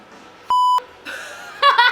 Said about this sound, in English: I wonder how many times I would have to beep this